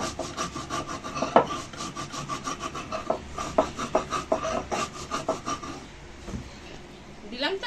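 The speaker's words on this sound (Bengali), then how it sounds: "আগে এটা শুকনো আগে একটুখানি বেটে নিই" Dry ingredients with a little salt are ground on a grinding stone before mustard goes in, giving close, rhythmic rasping scrapes in quick strokes that ease off into quieter rubbing near the end.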